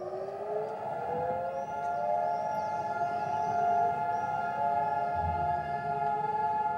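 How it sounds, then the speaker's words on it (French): A long, steady Memorial Day remembrance siren wail in Israel holds a sustained tone over a distant, hollow outdoor ambience, faint and far off rather than close. "on pourra entendre comme chaque année les sirènes du jour du souvenir"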